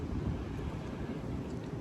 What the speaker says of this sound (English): it's breezy down here